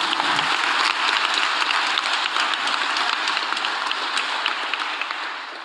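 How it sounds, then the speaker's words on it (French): An audience in a conference hall applauds a newly shown trailer at a launch event, a steady, dense clapping that runs the whole time and fades slightly at the end. "Je pense qu'on peut déjà applaudir cette bonne annonce."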